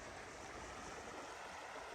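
The Lower Deschutes River, a wild and scenic river, flowing past its shoreline on Trout Creek Trail, making a steady, even rush of water with no breaks.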